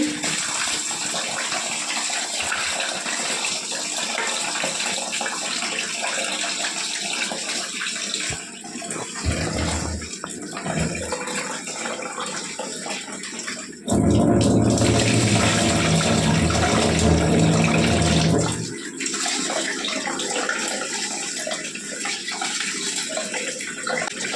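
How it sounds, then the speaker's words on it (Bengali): Water runs steadily from a tap while rice is washed for cooking in a home kitchen, with a louder gushing burst midway before settling back to a constant flow. "চলো চালটা ধুয়ে ভাত বসায় দিই"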